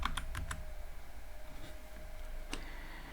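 Keys clicking on a computer keyboard while code is typed for a tic tac toe game, a few quick taps near the start and another around two and a half seconds, faint and close over a quiet room hum.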